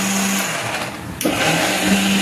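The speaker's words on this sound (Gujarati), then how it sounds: "હમણે મિક્સરમાં ગ્રેવી થાય છે" A kitchen mixer grinder whirs loudly while blending gravy for a vegetable dish, a continuous motor drone with a brief change in pitch midway.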